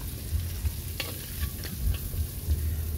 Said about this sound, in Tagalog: Halu-haluin natin guys para kumalat yung lasa at saka hindi siya dumikit sa ating kawali guys